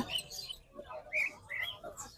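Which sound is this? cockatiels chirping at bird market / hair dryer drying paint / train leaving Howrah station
cockatiels chirping at bird market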